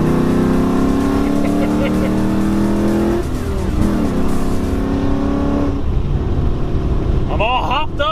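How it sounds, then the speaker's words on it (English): A Ford Mustang accelerating in fourth gear from about 50 mph and 3,500 rpm, its engine a loud steady drone with rising tones that shift partway, heard from inside the car with road noise throughout. "If I just step on the gas, this thing's got torque."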